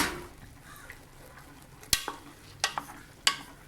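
Ghee rice stirred in a cooking pot, a faint steady scraping under a low hiss, broken by several sharp spoon clinks against the pot's metal rim near the end.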